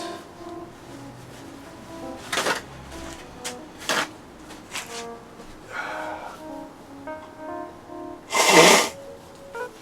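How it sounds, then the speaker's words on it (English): A few short, wet bursts of nose blowing, with one loud forceful blast near the end; no talking. "Let me blow my nose one more time."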